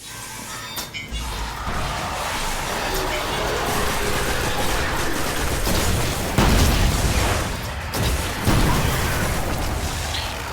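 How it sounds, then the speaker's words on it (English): A rocket explosion during a Destiny raid, a deep booming blast breaking through a dense, constant wash of game noise, with further heavy impacts following. "You just jumped right in front of that rocket"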